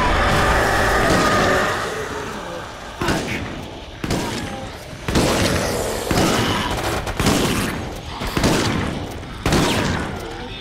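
Repeated heavy pump-action shotgun blasts from Resident Evil: Operation Raccoon City, loud booming shots fired every second or so in an irregular series over constant dense game ambience.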